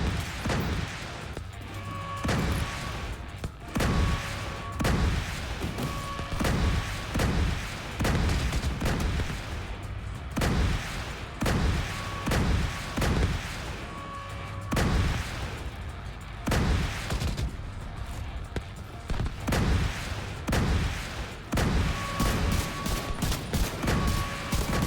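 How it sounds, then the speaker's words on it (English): Missile turrets in The Division 2 fire in repeated heavy volleys during a Dark Hours raid, loud rapid bursts and booms recurring every few seconds over a constant battle din. "Missile turrets activating."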